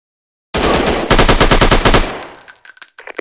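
Rapid automatic gunfire from a sniper shooting video game, loud and close, bursting in after a brief silence as dense repeated shots with a short pause, then trailing into fainter scattered sounds.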